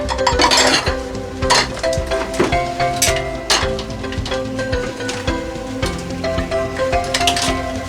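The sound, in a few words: cooking pot being handled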